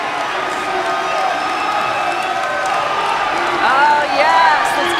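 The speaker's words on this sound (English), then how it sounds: "He wants to hear this crowd." A crowd cheers at the men's ACC swimming and diving championships after the 100-yard freestyle final, a loud, sustained roar of voices with whoops and shouts that swells near the end, with an announcer talking over it.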